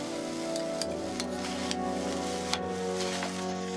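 A rice mixture stir-fried with dark soy sauce for Hokkien salted-meat rice dumplings gives a steady, close sizzle with light scraping and a few faint ticks from the spatula throughout.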